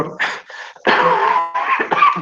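Several harsh coughs and throat-clearing bursts from an adult in a lecture setting, loud and close, in a short broken-up series with a brief pause between them.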